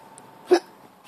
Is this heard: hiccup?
yes